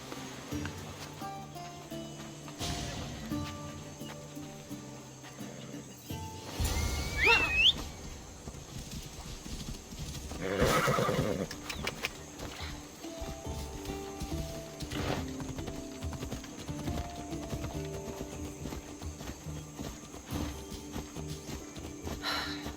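A horse in Assassin's Creed Odyssey clip-clops along at a steady ridden pace, with a clear neigh and occasional snorts, set against quiet ambient game music.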